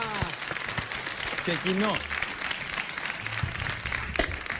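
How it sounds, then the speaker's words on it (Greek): A studio audience on a Greek TV game show on ANT1 claps in a steady sustained round of applause, with people talking over it. "Πάμε, χειροκρότημα, έλα!"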